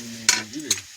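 Vegetable curry fries in a pan after tempering, giving short bursts of sizzling and stirring clatter over a low steady hum, close and brief.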